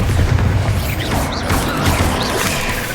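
Hogwarts Legacy's Bombarda blasting spell goes off amid combat in a loud, continuous barrage of booming impacts, crashes and mechanical clatter, with overlapping spell effects.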